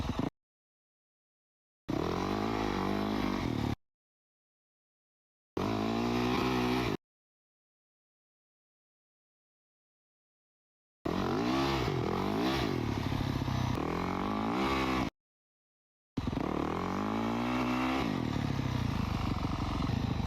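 Motocross dirt bike doing a power slide on a track, several close bursts of revving engine with rising and falling pitch, separated by silent gaps.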